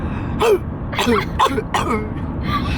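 A person imitates a dog's hacking kennel cough, four or five short raspy honking coughs in a row, close and fairly loud.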